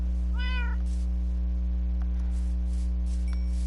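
A cat in Minecraft gives one short, clear meow near the start, then a steady electrical hum carries on beneath faint clicks.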